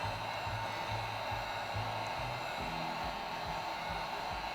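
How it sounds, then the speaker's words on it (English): A heat gun blows steadily over wet acrylic pour paint in an open cup fluid art piece, a constant loud whooshing hiss with a faint pulsing hum underneath and no voices. "we're gonna get our cells within cells using this heat gun here"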